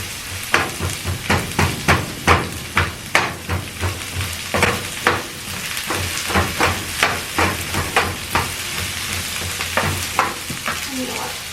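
Onions sizzle in a frying pan under a steady hiss, broken by a regular run of sharp scraping stir strokes, close and fairly loud with no voices.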